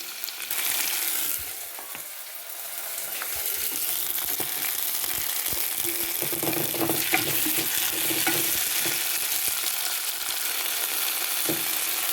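Tomatoes and salt sautéing in a pan for a fish curry, a dense steady hiss of frying under repeated scraping and stirring strokes, loud and close throughout.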